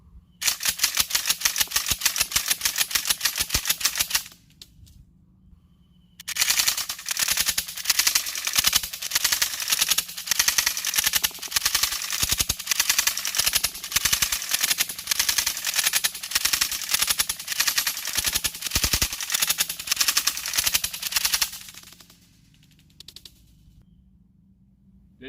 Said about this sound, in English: I just cycled 13 rounds of Aguila Minishells through this shotgun.